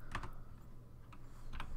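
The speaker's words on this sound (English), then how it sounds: "go ahead and type in the date command in MS-DOS here" Keys tapped on a computer keyboard while entering an MS-DOS command, a few close, crisp clicks in small clusters separated by a short pause.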